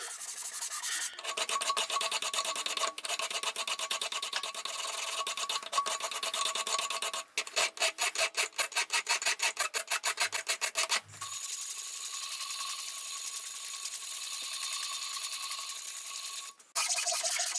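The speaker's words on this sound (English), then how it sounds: "Filed in the bevel using a filing jig and ended up being around 12 to 13 degrees" Hand file rasping along the bevel of a kiridashi knife held in a filing jig, steady continuous strokes close up with a brief burst of quicker rhythmic scraping partway through, no talk.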